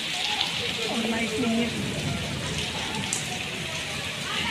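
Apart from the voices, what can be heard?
heavy rain falling in Delhi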